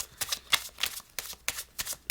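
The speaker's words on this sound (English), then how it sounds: "So we would give the cards a little bit of a shuffle here." Playing cards being shuffled in quick riffling bursts, several short rustling flurries close by with brief pauses between them.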